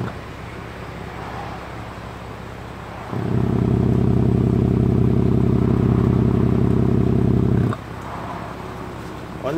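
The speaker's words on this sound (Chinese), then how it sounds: "现在引擎正在发动当中，阀门为全闭" BMW E90 325 engine idles with an ARMA valved exhaust held fully closed, a steady low drone that swells into a louder sustained hum for several seconds and then drops back.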